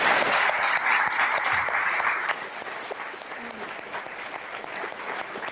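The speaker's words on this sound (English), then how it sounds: "if we could all join me in a round of applause" Steady applause from an evening lecture audience thanking legal commentator Joshua Rozenberg, full and even for about two seconds, then dropping to a softer, thinner patter of claps that carries on to the end.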